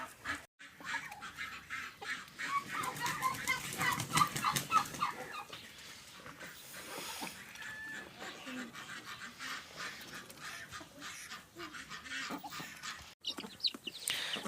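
Hens and chicks clucking and squawking nearby, a busy flock of overlapping calls with occasional louder cackles and duck-like quacks.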